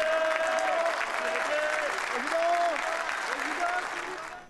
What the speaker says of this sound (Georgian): ნიკოლა სარკოზი და კარლა ბრუნი სასახლიდან ტაშით გააცილეს